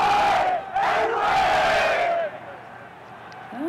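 A large crowd of Seattle Sounders football supporters chanting together in a stadium, a loud, sustained mass of voices that swells and then eases slightly toward the end.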